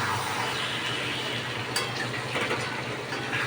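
Chicken with onion, garlic and amsotto sautés in a pan, giving a steady, loud sizzle with scraping stirs and a brief clink partway through.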